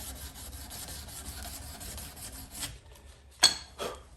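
Wood sanded by hand with sandpaper in a steady, close scratchy rubbing that runs for a few seconds, then stops, followed by a couple of brief scuffs and knocks.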